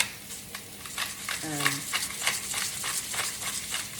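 Eggs seasoned with salt and pepper are mashed in a bowl for a crustless quiche, giving soft rhythmic scraping and squelching strokes, close and fairly quiet, with a brief tonal sound partway through.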